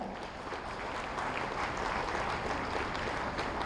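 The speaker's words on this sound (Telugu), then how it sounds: "సభా ప్రాంగణం అంతా కూడా చప్పట్లతో గద్దరిల్లిపోవాలి" Dense, steady applause from an audience filling a hall at a Lions Club women's festival event, loud and continuous throughout with no pauses.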